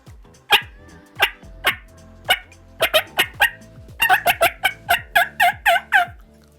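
Turkey yelps and clucks made on a diaphragm mouth call by a person imitating the bird: a series of sharp, close, loud calls, spaced at first and then quickening into a rapid run of yelps.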